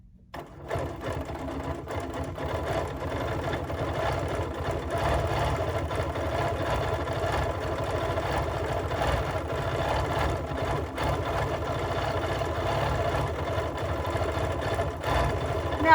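A sewing machine free-motion quilts steady stitches through velvet for a mug pincushion, a continuous close mechanical whir with fast even rhythm and no talking.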